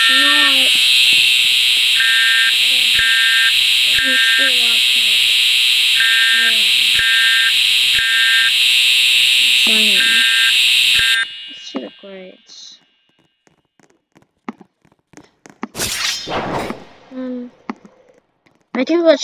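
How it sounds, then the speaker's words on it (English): A school fire alarm at a middle school sounds loudly and continuously with a repeating beeping pattern for about eleven seconds, then cuts off, followed by quieter clicks, handling noise and brief talk. "Oh no, the fire alarm."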